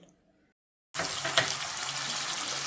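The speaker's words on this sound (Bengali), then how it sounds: "এবার আমি এর মধ্যে দিয়ে দিচ্ছি 1/2 কাপ মতো জল।" Half a cup of water hits a pan of frying soybean masala after a near-silent pause, setting off a sudden loud, sustained hiss and sputter that continues steadily.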